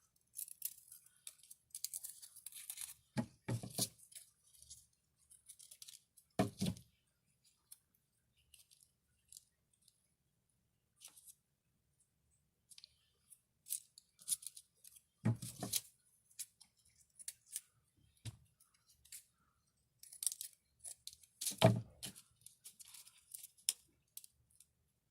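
Scissors cutting paper feathers for an art lesson, with faint, intermittent snips and crisp paper rustles, close and quiet, spread over long stretches with several pauses.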